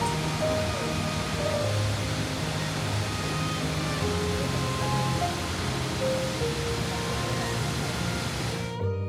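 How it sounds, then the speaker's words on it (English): Cheonjiyeon Waterfall on Jeju Island pours as a dense, continuous roar of falling water among trees, steady and enveloping, with faint tonal hum underneath and an abrupt cut at the end. "the sound of the water echoing through the trees"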